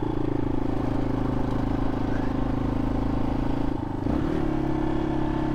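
A Yamaha XT250 dual-sport motorcycle engine drones steadily while riding, loud and close, with a brief dip and shift in pitch partway through before the engine settles again.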